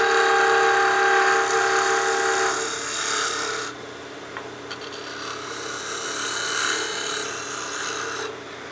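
A lathe tool glides across a spinning wooden whistle, giving a steady rasping scrape that runs loud and continuous for several seconds, drops briefly with a few small clicks, then swells again.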